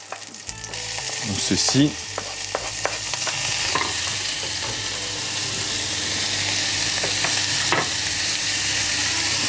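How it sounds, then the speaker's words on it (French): Shallots sweat in a little butter in a pan, a steady close sizzle with scraping stirs and a brief clatter near the start; someone says a couple of words at the very beginning. "on va faire d'abord suer nos échalotes dans un tout petit peu de beurre"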